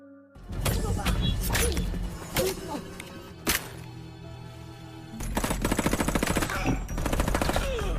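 Gunshots in a film scene, several sharp bursts and single shots ringing out over a busy, loud soundtrack, with a rapid volley near the end and people talking.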